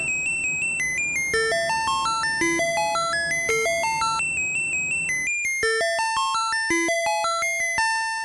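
An electronic school bell chime plays the melody of Für Elise as a series of clear, bright synthesized tones, the tune running steadily for several seconds with a brief restart partway through, no voices present.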